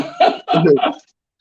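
A man clears his throat in a podcast conversation, two or three gruff, voiced rasps in quick succession, close and loud, then silence.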